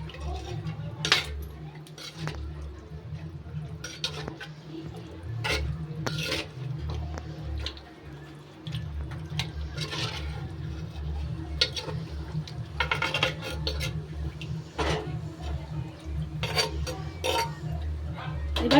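Chicken mixed with spices in a metal bowl, with repeated clinks and scrapes of a utensil against the bowl and a soft wet churning beneath, close and steady with brief pauses.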